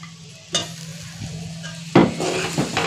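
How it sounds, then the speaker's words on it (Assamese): Carrots and fried potatoes stirred together in a pan, dry-frying with a soft sizzle and a few louder scrapes and clinks of a utensil against the pan. "মই ভালদরে এক মিনিটমান সময় এনেদরে শুকানকৈ ফ্রাই করে গেছো"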